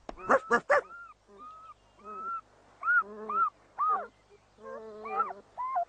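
Newborn puppies whimper in a cartoon, giving a series of high, thin whines and squeaks, close and clear, separated by short pauses.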